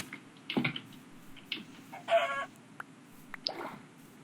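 Chickens in the Minecraft video game cluck in a handful of short, separate bursts spread across a few seconds, moderately quiet with no voices over them.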